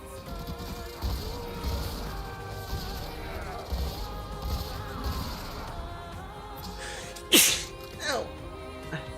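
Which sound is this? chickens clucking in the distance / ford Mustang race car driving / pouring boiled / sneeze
sneeze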